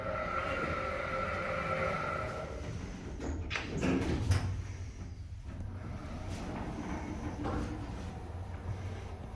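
Lift doors sliding in a shopping centre, the Wulfrun and Mander Centre in Wolverhampton: a rumbling, clattering rolling sound midway, under constant machinery hum and faint ambient noise.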